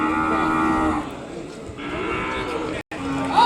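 Cattle low in long, drawn-out moos at an Ongole bull and cow market, the calls loud and close over a busy outdoor background with a brief cut near the end.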